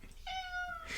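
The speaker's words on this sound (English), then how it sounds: "If I can find myself not being distracted by the cat meows" A house cat gives a single clear meow, close and fairly quiet, lasting under a second with no talking over it.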